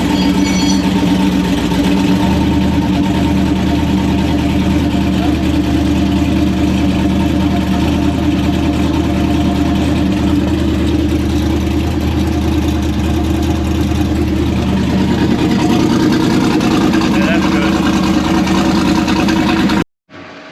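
An engine fires up on a cold start and settles into a loud, steady idle close by. The thick low drone runs unbroken for about twenty seconds before cutting off abruptly, with no one speaking.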